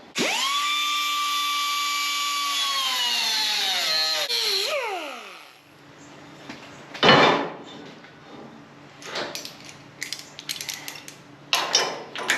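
A power cutting tool, likely a cutoff wheel, slices into the metal of a 1936 Ford, its loud steady whine holding for about four seconds before winding down, followed by scattered clanks and scraping.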